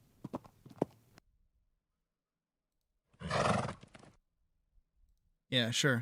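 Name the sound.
dying horse neighing sound effect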